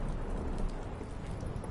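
Steady storm rain in The Witcher 3 while sailing by boat, a dense continuous hiss and patter of raindrops with low rumbling underneath, even and unbroken throughout.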